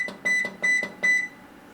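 An ultrasonic cleaner's timer gives three short, clear electronic beeps at an even pace, close and distinct against a quiet background.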